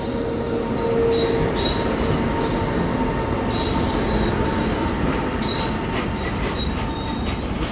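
A Ranchi–Howrah Shatabdi Express braking hard, its wheels squealing in sustained high-pitched screeches that come in several waves over a steady rumble of rolling stock, loud and close with no talking.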